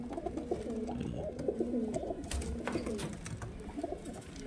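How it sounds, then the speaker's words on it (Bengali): High-flying pigeons in a loft give steady, overlapping low coos and warbling calls, close by, with a few faint scuffs and flutters among them. "সব প্রত্যেকটা পায়রা হাই ফ্লাইং পায়রা ফ্রেন্ডস"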